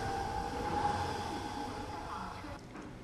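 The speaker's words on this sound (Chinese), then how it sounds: "本台记者登上了三闽北开往福州的首趟动车组" Inside the first high-speed EMU train from northern Fujian to Fuzhou, a steady low rumble and hum of the carriage at speed fills the scene, with faint talk underneath.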